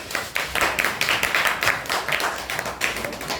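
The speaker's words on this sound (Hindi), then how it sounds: "जाओ, ताली बजाओ इनके लिए।" Children clap their hands together in a classroom, a quick steady run of sharp claps repeating evenly for a few seconds, close and fairly loud.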